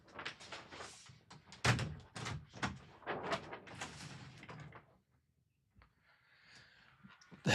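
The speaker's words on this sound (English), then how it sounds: "Let me just shut my door." Indoors, a room door is handled with a series of knocks, thuds and sliding clunks, then a firm shut, followed by near silence and a faint muffled sound from outside.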